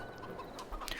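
Chickens cluck in the farming video game Farming Simulator 22, short clucks over a steady ambient bed with a couple of brighter blips near the end.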